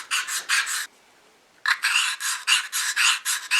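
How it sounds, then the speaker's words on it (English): A diamond stone rasps back and forth across a crystal turkey call surface in quick, close strokes, a burst of scrapes, a brief pause, then a longer run of rhythmic rubbing. "I use a diamond stone, and I'm just going to work this call from side to side in order to roughen and condition this surface"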